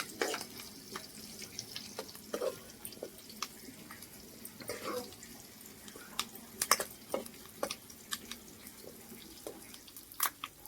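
Curry leaves fry in hot oil for an egg masala gravy, giving a soft continuous sizzle broken by scattered sharp crackles and pops, fairly quiet and with no talking.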